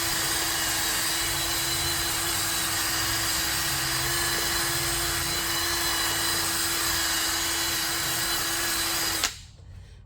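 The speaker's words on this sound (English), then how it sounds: "So we have the metal brush and the drill" A drill spins a metal wire brush against a rusty Mercedes S550 W222 front brake hub in a loud, steady grinding whir for about nine seconds, then stops abruptly.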